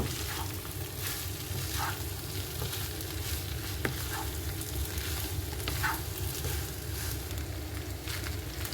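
Spicy chicken fries in a pan with a continuous dense sizzle as it is stirred, the spatula scraping now and then, steady and close throughout without speech.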